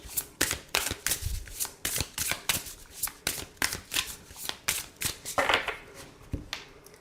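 Oracle cards are shuffled by hand close up in a quiet room, a regular series of crisp riffling and slapping bursts repeating roughly every half second, with no voices.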